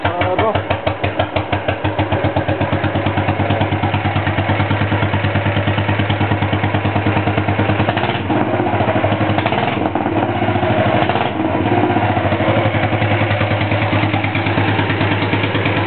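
A Panther 650 motorcycle with a single-cylinder engine runs at a steady idle close by, giving a loud, continuous and even thumping beat throughout.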